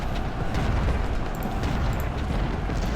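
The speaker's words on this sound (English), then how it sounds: "those cannons are doing a lot of damage" Cannon artillery fire in Ultimate General: Civil War, a continuous loud rumble of booming blasts and crackling bursts that blend into a steady battlefield roar with no pauses.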